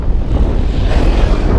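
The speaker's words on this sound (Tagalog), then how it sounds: "Ang lakas ng hangin." Strong wind roars across the microphone while cycling, a heavy low rumbling buffet that stays loud and steady with no voices.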